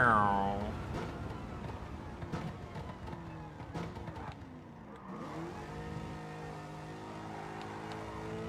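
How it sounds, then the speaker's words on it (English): A DeLorean with a swapped-in LS7 V8 engine revs in Gran Turismo 7, its pitch climbing, dropping and climbing again, with sharp clicks and a voice talking underneath. "Of course, I have noisy American engine."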